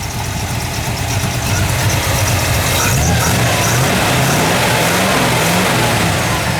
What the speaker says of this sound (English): Nice sounding dual exhaust